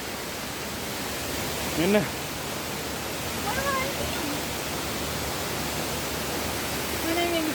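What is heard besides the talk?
Duli Ella waterfall in Lankagama, Sri Lanka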